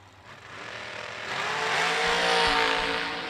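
A vintage-class dragster in a Twin Fifties drag race launches hard down the strip, its engine noise swelling into a loud, broad roar that peaks and holds near the end.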